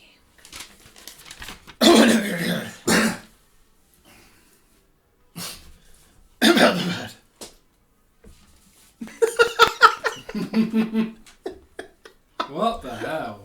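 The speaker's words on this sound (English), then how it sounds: "So I just have a really weird cough sometimes" During a tabletop game podcast session, a person gives several harsh bursts of coughing and throat clearing, spread across the recording with near silence between them.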